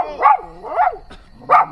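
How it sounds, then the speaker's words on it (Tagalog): A dog at night on a roadside near Tagaytay barks three times in short, spaced yaps, fairly close and clear with no talk over it. "may aso po"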